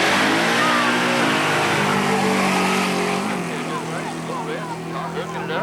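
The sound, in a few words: drag racing car launching down the dragstrip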